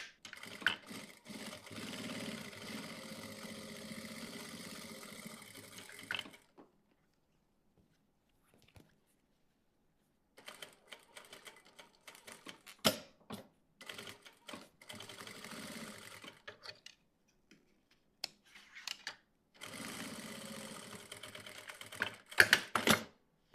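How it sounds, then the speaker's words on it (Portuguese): Sewing machine stitching together fabric pieces for a zippered lined pouch, running in bursts of steady whirring with short pauses and quiet gaps between seams, close and moderately loud. "Eu vou continuar aqui costurando então todas as peças."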